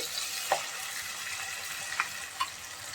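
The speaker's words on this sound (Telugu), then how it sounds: "ఇప్పుడైతే తీసుకొని చూస్తున్నాం, బాగా ఫ్రై అయింది కదా. ఈ విధంగా బాగా ఫ్రై అవ్వాలండి." Chicken fries in a pan while cooking gongura chicken, giving a steady, even sizzle throughout, broken by three brief scraping stirs and clinks.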